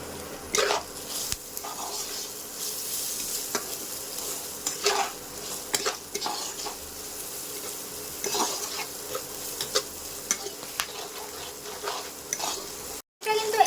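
South Indian rice is stirred in a pan with repeated scraping strokes over a soft sizzle, close-up and irregular, and a brief dropout near the end.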